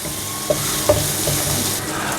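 Manchurian sauce ingredients, chili sauce, black pepper and sugar, mixed with a spoon, a continuous close sizzling hiss with a couple of light utensil taps.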